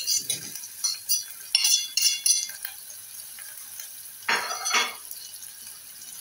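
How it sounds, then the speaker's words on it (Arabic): A utensil stirs food in a cooking pot with a little onion added, giving irregular close scrapes and metallic clinks with quiet gaps between them. "نقلب بقى كده"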